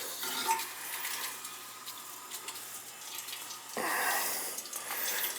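Water rushes and gurgles steadily through boiler pipes being purged of air, hissing and splashing, then surges louder partway through as the flow increases.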